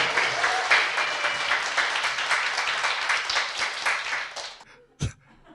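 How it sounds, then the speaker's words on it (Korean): A studio audience claps loudly for a newly introduced Democratic United Party candidate, a dense steady burst that fades out near the end, followed by one sharp thump. "박수!"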